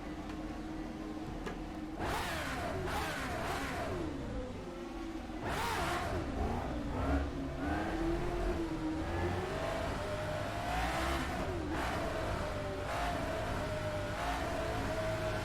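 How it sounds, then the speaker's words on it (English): A race car engine in a racing simulator game drones steadily, its pitch rising and falling through repeated gear shifts and revs, with bursts of road and bump noise. "Love the sound of this car."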